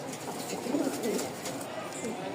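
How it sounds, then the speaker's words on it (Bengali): Bombay pigeon cooing inside a cage, soft low rolling coos close by over faint background noise. "ওদের খাঁচায় দিয়ে দেখায় যে আসলে ডাক কেমন দেখেন ডাকের সাউন্ডটা দেখেন"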